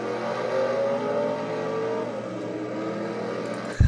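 A pace car drives in a racing video game, its engine a steady mid-pitched drone with a slight rising tone, held for a few seconds before an abrupt louder thump at the end.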